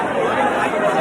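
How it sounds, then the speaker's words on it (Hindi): Dense crowd chatter at Dongargarh temple during Navratri, a steady murmur of many voices close around, with no single voice standing out. "देख सकते हो बहुत भीड़ है यहाँ पर"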